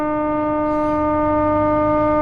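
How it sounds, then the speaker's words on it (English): A loud, steady horn blast with several layered tones holds without a break, a train whistle sounding close by at the Golden Spike Tower in North Platte, Nebraska. "That was a loud train whistle,"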